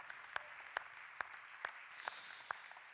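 Applause from a children's theatre audience at a Christmas celebration, faint and distant, with a soft wash of clapping punctuated by a few sharp, evenly spaced louder claps.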